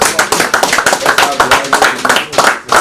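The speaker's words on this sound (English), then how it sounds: "Please give her a round of applause." A crowd applauds at an Independent National Electoral Commission event in Oyo State: dense, steady clapping fills the short stretch, with voices mixed in underneath.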